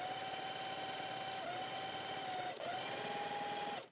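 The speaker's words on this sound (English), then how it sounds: "we stitch along the edge that we've just folded" A sewing machine stitches along the folded edge of a French seam, a close, steady whirring run with a slight dip partway through before stopping abruptly.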